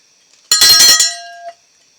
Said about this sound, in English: since we're the Slovak Farm, you get a cowbell